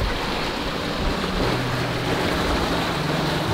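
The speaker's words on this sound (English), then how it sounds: "We are sailing close on the wind now." A sailboat with two reefs in the main sails close-hauled at about 7.5 knots in roughly 15 knots of wind, with a steady rush of water and wind noise along the hull and no voices.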